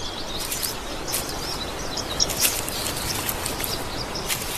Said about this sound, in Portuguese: E isso atrai um polinizador bastante colorido, o pássaro-sol de tufo escarlate